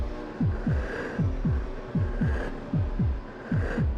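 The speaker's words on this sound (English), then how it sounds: "The heavy breathing, the heartbeat, the blurred vision." A heartbeat effect from the PS2 racing game Alfa Romeo Racing Italiano thumps in steady low double beats, lub-dub pairs repeating about twice a second over a constant engine-like hum.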